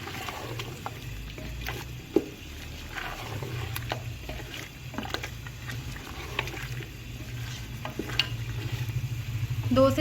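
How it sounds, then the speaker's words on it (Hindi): Beef masala with yogurt sizzles and fries gently in a pot over a low flame, a steady soft crackle with occasional sharper pops and light stirring scrapes, close and continuous. "दो से 3 मिनट जो है वो इसको इसी तरह से हम बिल्कुल लो आंच पे जो है वो भूनेंगे"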